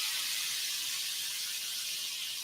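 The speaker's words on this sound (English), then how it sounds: "All right, so this is medium-high heat. It's sizzling away." Sauce sizzling in a pan over medium-high heat, a steady, loud, bright hiss that carries on unbroken with no talking over it.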